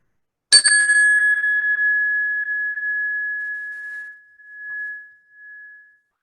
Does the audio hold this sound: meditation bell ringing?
yes